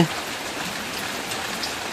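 Steady, dense rainfall pours down in a rural homestead during a downpour, a continuous even hiss filling the short stretch with no voices.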